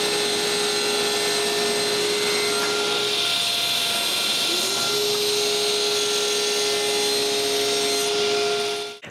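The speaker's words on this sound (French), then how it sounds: "Je commence par couper un morceau de MDF bien carré." A power tool cuts a square piece of MDF, a loud continuous whine with a steady pitch that dips briefly midway, close up and with no talk, before it winds down at the end.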